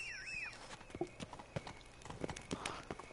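Rhythmic hoof clip-clops of a horse moving at a steady pace in the video game The Witcher 3: Blood and Wine, with brief electronic tones and game-like effects early on.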